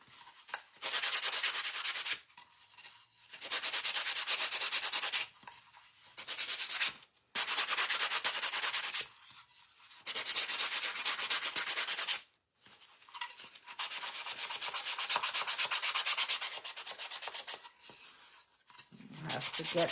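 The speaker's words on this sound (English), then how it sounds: "We're doing the same thing to this side, sanding it off." Rhythmic scratchy strokes of sandpaper rubbing a stained wooden door tag by hand, in long back-and-forth bursts separated by short pauses, close by and fairly quiet.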